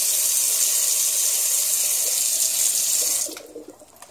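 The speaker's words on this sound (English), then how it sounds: "You just come here and just pour water." Water poured over hands at a sink runs as a loud, steady close splashing rush, then cuts off and leaves a few faint drips and small sounds.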